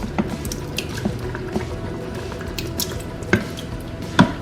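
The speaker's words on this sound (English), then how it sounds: "now we're going to add our chopped tomatoes" Canned chopped tomatoes sliding and plopping into an Instant Pot, wet squelching and dripping sounds with a few sharper clinks against the metal pot, close and fairly steady.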